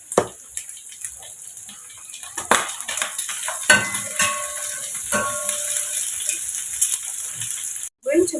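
Onions cooking in fatty pork in a pot for stew, with no oil added, give a steady soft sizzle broken by clinks and scrapes of a stirring utensil against the pan, close by and moderately loud.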